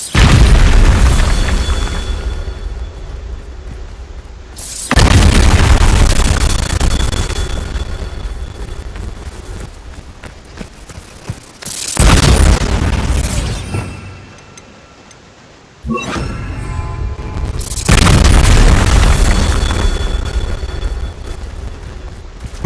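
Heavy booming blasts from the Bombarda explosion spell in the video game Hogwarts Legacy, several loud bursts, each decaying into a long rumbling tail, with brief quieter gaps between them.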